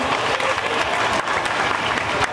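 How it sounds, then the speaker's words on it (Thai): An audience claps and cheers for young fighters at a Muay Thai event in Thailand, a dense, steady burst of loud applause that fills the whole moment without letting up. "ขอเสียงปรบมือหน่อย"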